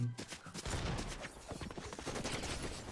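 Video-game gunfire crackles in dense overlapping volleys, near and fairly loud, with rapid bursts continuing almost without pause across the whole stretch.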